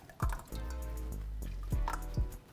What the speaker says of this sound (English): Okay, tomato sauce. Gonna pour that in there, 2 cans.